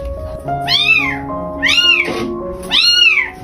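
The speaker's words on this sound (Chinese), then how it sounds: "还有一只小猫呢" A kitten cries out three times in close succession, each meow a rising then falling high-pitched wail, clear and near, with short quiet gaps between calls.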